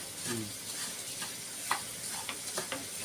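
Liver fries in a pan with a soft, steady sizzle. Quiet scraping and stirring sounds and a few light clicks come through it. No one speaks.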